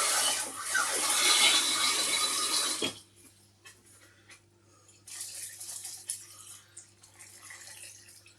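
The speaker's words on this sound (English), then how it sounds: "Then I'm still going to add some more water." Water pours into a pot of beef stew in a steady splashing stream for a few seconds, then stops abruptly, followed by softer sloshing and dripping in the pot.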